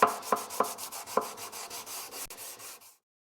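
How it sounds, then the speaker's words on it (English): A flat sanding block rubs across a wooden classical guitar part in steady, rhythmic back-and-forth strokes, close and soft, with a few sharper scrapes at the start, before stopping abruptly. "Now take a nice flat sanding block and remove all the tool marks from here."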